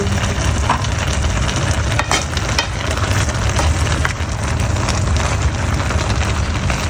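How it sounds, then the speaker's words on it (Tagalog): Food sizzles steadily in a hot pan while a spoon stirs it, a continuous loud frying hiss with occasional scraping knocks, and no talking. "Haluin natin."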